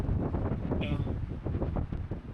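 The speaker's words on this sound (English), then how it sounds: "I'm waiting for the minute that it slows down to like 15, 20 knot wind." Strong hurricane wind buffeting a mountaintop motorcycle campsite, a loud continuous gusting roar rumbling across the microphone.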